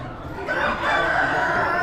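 Chickens at an Amish animal auction, including Polish hens, crow and cluck loudly and steadily over a dense crowd murmur, the calls close and continuous throughout.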